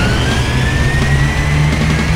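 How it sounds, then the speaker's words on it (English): Racing car engines rev loudly in an Android racing video game, a sustained droning whine that rises slowly in pitch as the cars accelerate, with no talking. "start your engines."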